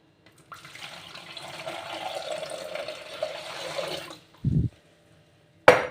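Cooled boiled water poured over pickled eggplant, a steady close pour running about four seconds alone, then two short louder splashes after a pause.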